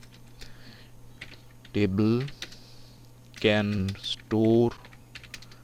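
Keys clicking on a computer keyboard, a soft, close patter of taps running under a voice as he speaks in short bursts between quieter stretches of typing.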